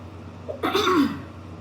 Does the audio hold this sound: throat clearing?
yes